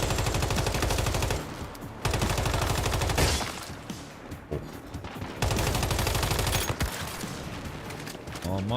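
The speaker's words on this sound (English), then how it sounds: "That's a sniper somewhere." Gunfire in the video game Once Human arrives in dense rapid bursts separated by short pauses, loud against busy game noise, with distant sniper shots mixed in.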